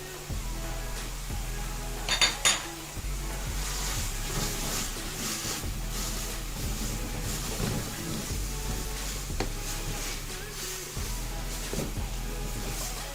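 Onion and capsicum tossed with half-cooked carrots in a hot pan for chicken chow mein give a steady broadband hiss, with a quick burst of metallic clinks from the utensil early on and no talking.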